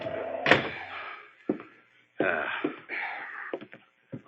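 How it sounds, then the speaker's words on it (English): A door kicked shut as a sound effect in a 1947 radio drama, a heavy thump amid low moaning and scraping effects, close and fairly loud with no speech over it. "Kick the door shut."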